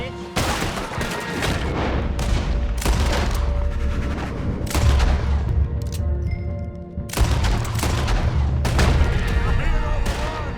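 Dense, loud video-game gunfire from a Red Dead Redemption 2 shootout, with overlapping bursts, booming shots and sharp cracks running continuously throughout as voices shout during a desperate last stand.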